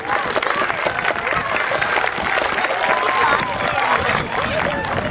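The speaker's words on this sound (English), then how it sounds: "we'll give them a round of applause" A crowd at a school district groundbreaking ceremony applauds continuously for the building committee, dense clapping mixed with murmuring voices and scattered cheers, loud and steady.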